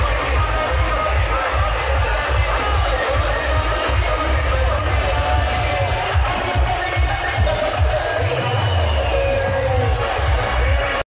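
Spectators at the Amdar Kesari wrestling final in Vadgaon Haveli keep up a continuous loud cheer, a packed roar of voices and shouts mixed with low pounding beats, holding steady for the full stretch.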